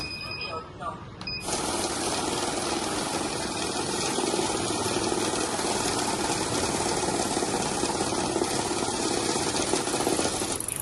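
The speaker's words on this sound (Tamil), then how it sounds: "மறுபடியும் அகைன் நம்ம ஸ்டார்ட் பண்ணா மட்டும்தான் நோட் கவுண்ட் ஆகும்." A cash counting machine starts after about a second and runs banknotes through in a fast, continuous mechanical whir that holds steady and loud to the end, while someone talks over it.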